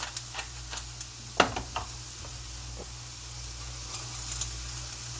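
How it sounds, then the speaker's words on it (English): Food sizzling in a hot cast iron pan, a low steady frying hiss broken by a few sharp ticks and knocks of utensils, fairly close and quiet. "Now that's getting up to temperature because it's really sizzling there"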